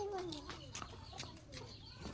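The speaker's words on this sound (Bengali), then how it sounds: "মুরগি আবার আসতেছে" A domestic chicken clucks in a few short, soft bursts around a household, faint and brief, with a voice faintly in the background.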